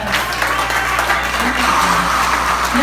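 Dense audience applause at an evening VIP gala, steady and loud throughout, with a few voices faintly mixed into the crowd noise.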